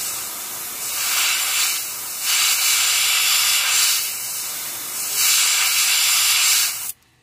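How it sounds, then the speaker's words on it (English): Aqua Sky Blue paint sprayed from an airbrush onto a bluegill's gill plate, three close bursts of steady hiss with short pauses between them, ending abruptly. "So we're gonna spray this on his gill plate."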